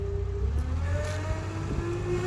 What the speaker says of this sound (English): You hear him throttling up.